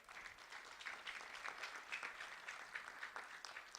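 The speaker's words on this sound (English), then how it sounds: "a round of applause for Erica Paccioni" An audience claps for a student being honored, a fairly faint, moderately dense round of applause with individual claps audible throughout, lasting a few seconds.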